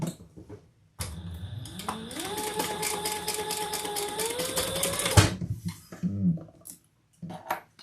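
A sewing machine stitches a shoulder bag, a fast whirring run that rises in pitch and holds for about four seconds before stopping abruptly, followed by faint handling clicks.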